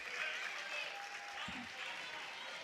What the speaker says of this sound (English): Abby Leedy gets an ovation from the Tuslaw crowd as she is done for the day